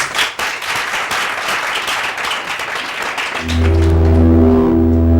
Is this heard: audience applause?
yes